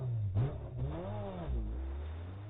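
A RedMagic 9S Pro gaming phone plays its supercar-style engine start sound as the cooling fan switches on, a short revving roar that rises and falls in pitch over a steady hum, with no one talking.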